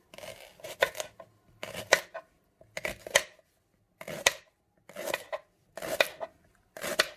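A knife chops fresh leeks on a cutting board, close and fairly quiet, in short bursts of rapid cuts separated by brief pauses.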